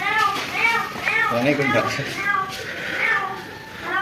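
A cat that has fallen into a well meows repeatedly, its cries hollow and echoey from inside the well, with children's voices chattering nearby.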